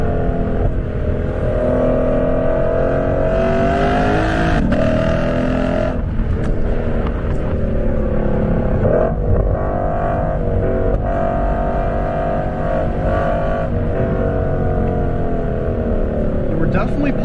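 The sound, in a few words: Lexus RC F V8 car driving hard through corners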